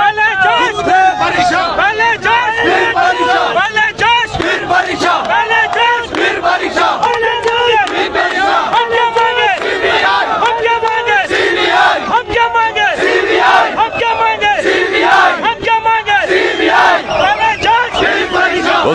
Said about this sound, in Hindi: और काफी बड़ी भीड़ है, निसंदेह बहुत बड़ी भीड़ है यहाँ पर अभी छात्रों की